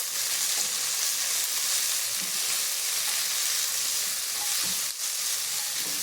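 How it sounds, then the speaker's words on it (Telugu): Curry leaves and mint sizzle loudly in a hot oiled pan, a dense, steady crackling hiss close up with a brief stir near the end. "కరివేపాకు పుదీనా కొంచెం ఇవి కూడా అన్నీ బాగా ఫ్రై చేద్దాము"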